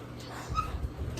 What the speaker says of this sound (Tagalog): Papakilala ko lang pala sa inyo ang aming aso.